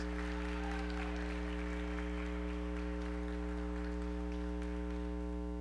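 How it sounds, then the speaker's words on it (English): Audience applause at an off-season robotics scrimmage, a moderate patter of clapping over a strong steady electrical hum that runs throughout the clip, with the clapping fading somewhat toward the end. "Let's get a round of applause,"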